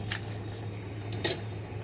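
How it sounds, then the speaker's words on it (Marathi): A metal spatula spreads a little oil over a chapati on a hot tava, with a few soft scraping strokes and light clinks over a steady low hum. "थोडंसं तेल लावते असं कलथ्याने."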